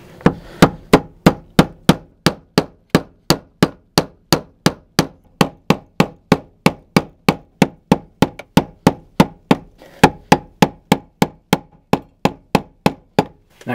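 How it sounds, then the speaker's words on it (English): Steady run of sharp metallic tapping on a fuel pump ring, knocked counterclockwise to loosen it, roughly three evenly spaced strikes per second, close and loud, with no talking. "I'm going to remove the fuel pump ring by going counterclockwise, or tapping counterclockwise"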